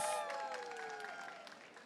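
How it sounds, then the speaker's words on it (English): Audience applause at a community action event during the COP30 climate conference, a broad wash of clapping with a few whoops and cheers, fairly faint and fading gradually over under two seconds. "Round of applause, please."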